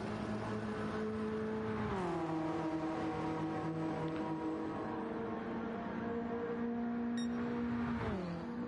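Race car engines in Gran Turismo 7 during an online league race, a continuous droning whine with gear-shift pitch drops and revs, steady and close with no talk.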